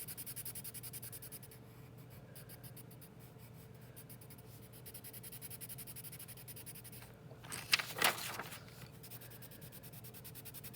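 Colored pencil shading across paper makes a fast, rhythmic scratchy rubbing that runs steadily throughout, close and moderately loud, with a brief louder scrape near the end.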